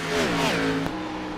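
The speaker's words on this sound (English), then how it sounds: "we mandatorily go quiet as the cars whiz past that particular camera station" NASCAR cars in a sim racing game roar past a trackside camera, a loud engine drone sweeping down in pitch as they pass, with overlapping engine tones and no talk.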